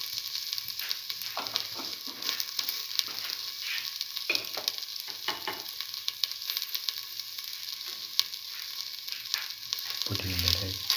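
Chili powder and cinnamon powder frying and being stirred in a pan for a mung bean rice dish, a steady close sizzle with scraping stir strokes throughout and a louder burst of spitting near the end.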